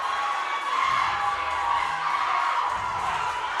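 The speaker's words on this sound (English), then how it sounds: "You can hear the crowd potentially cheering, chanting in the background." A crowd at the Burn Boot Camp Athlete Games 2024 fitness competition makes a steady, dense roar of cheering and shouting that fills the space evenly throughout, with no distinct individual voices rising above it.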